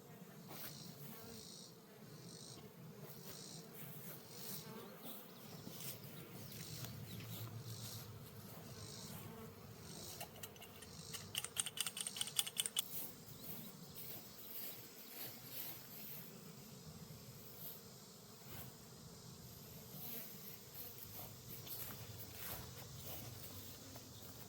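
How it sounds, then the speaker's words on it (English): Honeybees buzzing around a hive on an off-grid homestead, a steady low drone with individual bees flying past close by, faint overall, with light handling noises and brief rustling midway. "these honeybees are doing so much better than they did this spring"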